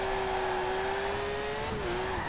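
A 1963 Volkswagen Beetle, upgraded with a far larger, more powerful rear-mounted engine, drones at steady high revs in Forza Horizon 4, its pitch dipping briefly near the end, with a constant tire and road roar.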